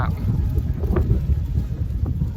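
Strong wind buffets a microphone outdoors on a street in Augsburg, Germany, a steady low rumble of gusts filling the whole stretch with no talk.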